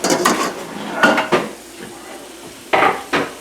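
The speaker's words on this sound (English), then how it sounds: "So, put these in there. Mix in my bowl a bit." Onion gravy ingredients are stirred in a bowl with a utensil, several short clinking scrapes in bursts separated by brief quiet gaps, close and fairly loud.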